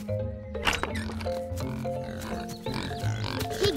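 A pig grunts and oinks over a steady backdrop of sustained musical tones, a couple of short snorty calls standing out near the end.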